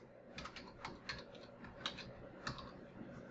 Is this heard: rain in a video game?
no